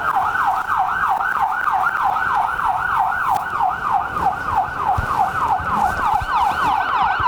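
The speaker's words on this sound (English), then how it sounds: "I will when the sirens stop." A loud emergency vehicle siren at a 2015 accident recreation at Governor Livingston High School wails continuously, its pitch sweeping up and down in a fast, steady rhythm.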